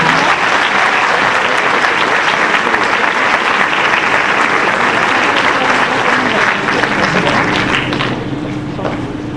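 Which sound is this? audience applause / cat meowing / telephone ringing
audience applause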